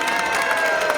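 An audience at a fair's dinosaur show claps and cheers, a dense, steady wash of applause mixed with shouts and children's voices, heard from within the crowd.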